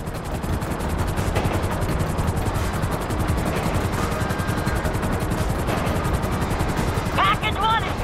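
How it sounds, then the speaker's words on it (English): Two helicopters approaching in the GTA V video game, a steady rapid rotor chop filling the scene with a constant loud mechanical drone, a brief chirp near the end. "There's two choppers coming toward my train!"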